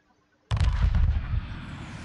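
Space battle in Homeworld 2 Remastered: after a brief silence, a sudden loud burst of weapon fire and rumbling explosions erupts and keeps roaring densely, deep and booming, with no voices.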